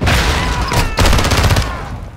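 SMG gunfire in the video game Modern Warfare II, a loud, close burst of rapid shots with a brief break in the middle, echoing as it trails off.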